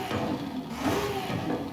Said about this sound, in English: God, that's such a good sounding engine